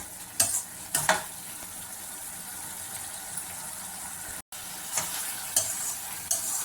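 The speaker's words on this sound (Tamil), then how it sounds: "இப்போ அப்படியே நிறைய சுகர் சிரப் இருந்தது, அப்படியே வற்றிக்கிட்டே வருது" Sugar syrup reducing in a pan of yellow pumpkin halwa, a steady soft hiss and bubbling with a few sharper stir scrapes near the start and end and a brief dropout in the middle.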